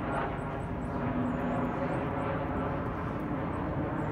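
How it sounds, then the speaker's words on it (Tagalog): A fixed-wing airplane passes overhead near an airport above a London garden, a steady broad rumble that holds for several seconds with faint high chirps of birds layered on top. "So makikita natin yung mga eroplanong dumadaan dito."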